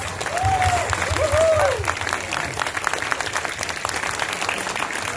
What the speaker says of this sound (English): can we all just stand up and give you a round of applause for your courage